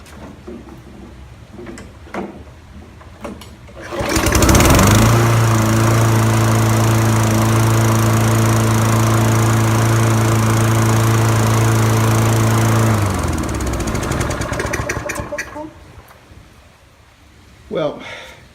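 A 2005 Toro Personal Pace self-propelled lawn mower starts up and runs steadily near at hand for about eight seconds, a loud droning engine, then cuts off and winds down; faint handling noises come before and after.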